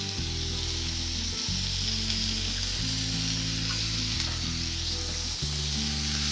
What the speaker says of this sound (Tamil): கொஞ்சம் வதக்கிக்கலாம்